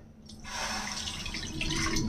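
Water pours into a wide cooking pan to begin a sugar syrup for rasmalai, a short steady splashing stream that starts after a brief pause and runs close and moderately loud, with no voices.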